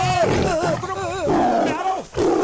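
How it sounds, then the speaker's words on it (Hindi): A tiger roars and growls with long tonal wavering calls, loud and close, filling the whole moment without pauses. "वो सामने देख, बाघ मुड़ रहा है।"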